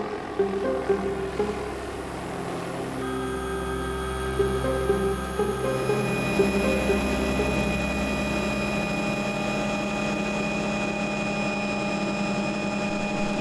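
Helicopter engine and rotor noise carrying a group to an uninhabited island, a loud steady drone with strong tonal whine that swells and shifts pitch, continuous throughout with no talk.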